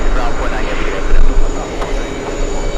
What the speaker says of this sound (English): 2 Virgin Atlantics. And if I said that this is an A350, I said that by mistake. Of course, that's an A330 Neo.